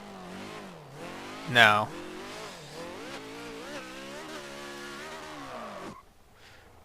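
A Polaris Razor engine in a video game revving with rising and falling pitch while attempting a wheelie, with a sharp squeal-like burst early on, then cutting off; a voice speaks briefly.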